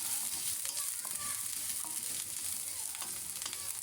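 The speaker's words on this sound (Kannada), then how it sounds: "ಈರುಳ್ಳಿ, ಹಸಿಮೆಣಸಿನ್ಕಾಯಿ, ಕೊತ್ತಂಬರಿನ ಹೈ ಫ್ಲೇಮ್ ಇಟ್ಟು ರೋಸ್ಟ್ ಮಾಡಕತ್ತೀನಿ" Continuous crackling sizzle of onions, green chillies and coriander roasting in hot oil on a high flame, with light stirring sounds throughout.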